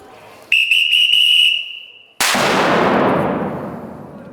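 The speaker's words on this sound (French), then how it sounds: "Vous allez entendre un coup de sifflet et une détonation" A sharp whistle blast sounds for about two seconds, then a bomb disposal team's controlled detonation cracks out loudly and rolls away in a long fading rumble.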